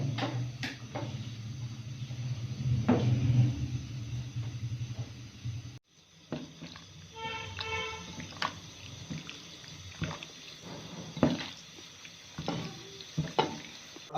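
Chicken is mixed by hand with salt, chili powder, turmeric and garam masala for shawarma, giving soft wet squelching and stirring sounds in irregular bursts, close and fairly quiet.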